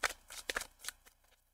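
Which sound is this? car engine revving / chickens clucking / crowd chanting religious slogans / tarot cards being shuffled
tarot cards being shuffled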